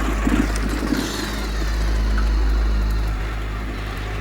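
A motorbike engine idles low and steady, then sputters and loses power as it stalls on a night ride home. The sound is close and continuous, with no talking.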